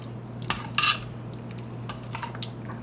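A spoon clanks and scrapes against the inside of an Instant Pot while a large batch of chili is stirred, a few metallic knocks standing out over a steady low hum; no speech.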